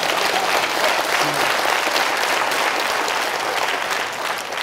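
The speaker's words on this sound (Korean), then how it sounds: "박수 한번 쳐줘요." Audience applause in a Korean lecture hall for an education superintendent, a dense, steady wash of many hands clapping that fills the whole stretch at even loudness and eases slightly at the end.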